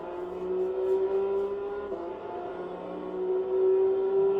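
A race car in a racing game shifting down and then powering out of a corner, engine tone holding steady, dipping at a gear change and climbing again as throttle comes on, close and moderately loud.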